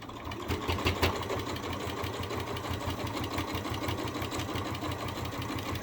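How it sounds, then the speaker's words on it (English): A sewing machine stitches quilt binding in a steady rapid mechanical chatter, close and continuous, with a faint hum underneath and no talking. "So I'm only going to stitch it to about where my finger is right now."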